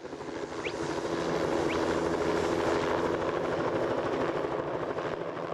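A helicopter flies over a raised peat bog, its steady rotor and engine drone filling the whole stretch at a loud, even level with no other sounds.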